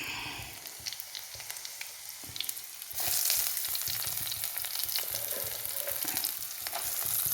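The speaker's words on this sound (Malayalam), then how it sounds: "ഇനി നമുക്ക് അതിനകത്തേക്ക് മുളകും സവോളയൊക്കെ ഇട്ട് കൊടുക്കാം" Chilies and onions frying in hot oil in a Kerala-style kitchen, a steady crackling sizzle that jumps louder around the third second as the vegetables hit the pan, then keeps a dense, close hiss with occasional stirring scrapes.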